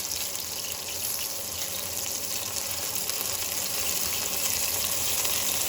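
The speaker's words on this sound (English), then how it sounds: "I just want to get a nice sear on that meat" Meatballs for orange cranberry meatballs sear in a hot pan, giving a steady, dense sizzle that stays even and close from start to finish without any talk.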